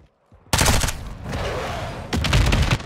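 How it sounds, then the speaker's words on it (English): Shotgun blasts from Call of Duty: Modern Warfare 2 team deathmatch, a loud close burst of fire followed by a quieter stretch and then a second heavy volley, no talking. "Darn shotgun"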